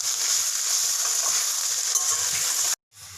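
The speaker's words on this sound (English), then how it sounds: "Let this moringa leaf cook on open pan. No need to close it with a lid. Just saute it with the oil." Moringa leaves sauté in oil in an open pan, giving a steady close sizzle with soft stirring scrapes, no voices, before it cuts off abruptly near the end.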